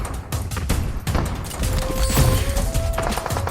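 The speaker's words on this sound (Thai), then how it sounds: "ปาระเบิดแดนดักเขาไว้นะ" A heavy grenade explosion boom in PUBG Mobile amid continuous gunfire and clattering game combat noise, loud and dense throughout.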